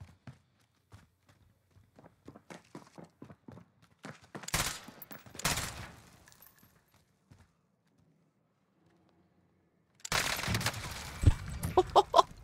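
Rapid bursts of SMG fire in the Warzone video game, with loud dense volleys in the middle and a long sustained burst near the end, separated by lighter clicks, footsteps and quiet stretches.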